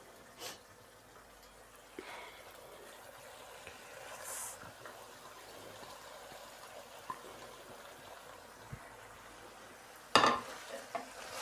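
Fenugreek leaves go into potatoes frying in a pan, with a low background sizzle, occasional soft stirring knocks and a sharper clatter near the end.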